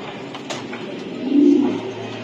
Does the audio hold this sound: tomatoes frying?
no